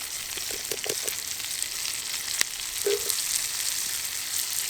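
Onion going into rendered pork belly fat in a pan outdoors: a steady, bright sizzle runs throughout, with a few soft knocks early on and one sharp tap near the middle.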